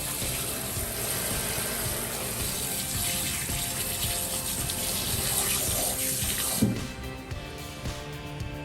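Tap water runs in a steady, even rush while giant sea snail meat is cleaned in a kitchen, then cuts off near the end, leaving a faint hiss and a small clatter.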